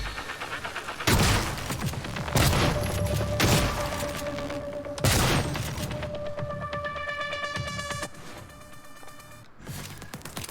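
Heavy shotgun blasts from the video game Prey boom out in a slow series of four loud, close shots, each followed by a ringing tail and lingering game effects.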